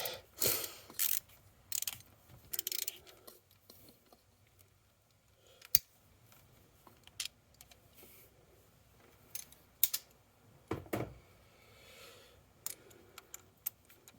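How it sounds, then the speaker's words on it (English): A ratchet wrench works a bolt loose on a 7.3 engine during injector cup replacement, giving scattered bursts of quick mechanical clicks and clatter at close range with quiet gaps between them. "Oh, watch me undo a bolt."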